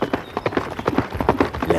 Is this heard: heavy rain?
no